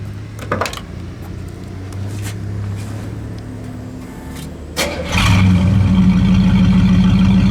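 A 1972 Buick GS convertible engine idles with a low hum, a few clicks and knocks sound, then it cranks and catches, settling into a louder, deeper running rumble through dual exhaust.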